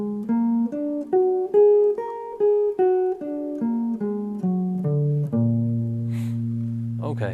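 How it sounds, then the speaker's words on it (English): A guitar plays a dominant seventh sharp-five arpeggio as clear, evenly spaced single notes, first climbing and then descending, ending on a held low note that rings out, with no talking. "So it's a dominant 7th arpeggio with a sharp 5 or flat 13, and it sounds like this."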